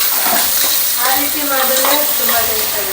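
Chana dal fries in a pan for home-style fried rice, a loud close continuous sizzle with wet stirring and scraping running through it, no voices heard.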